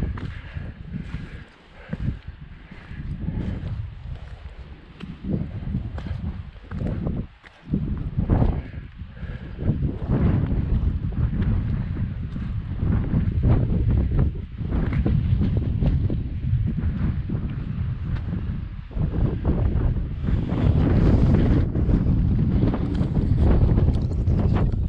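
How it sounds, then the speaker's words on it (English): Strong wind gusts buffet the microphone on a wet, exposed hiking trail along the Grafton Loop's east side, a steady loud roar with heavier surges throughout and no talk. "That wind is blowing, I'm wet."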